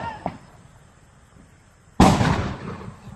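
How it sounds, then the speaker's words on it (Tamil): A Lakshmi brand firecracker set off for Diwali gives one sharp, loud bang that trails off into a short crackle. Quiet background comes before it, with a faint pop early on. "2 வைக்க போகிறோம். டப்புன்னு வெடிக்கிறதுக்கு"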